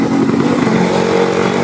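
A cold two-stroke motorcycle engine running on Top1 2T low-smoke oil revs steadily and loudly up close, a continuous buzzing drone with no talking.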